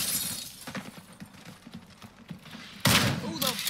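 Gunfire in the Black Ops 6 shooter on the Babylon map during a Domination match: a scatter of rapid shots, then a loud, dense burst near the end, with a voice briefly present.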